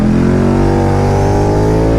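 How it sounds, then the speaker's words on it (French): A motorcycle engine revs hard as the throttle is twisted on a mountain pass road, a loud, continuous, near growl with steady harmonics and no talk. "quand on tourne la poignée, j'ai l'impression que... je sais pas ce qu'il y a dans ce moteur, mais il se passe vraiment quelque chose"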